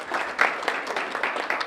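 Audience applause at a cancer-prevention talk by hosts, a dense steady patter of many hands clapping at moderate loudness with no talking over it.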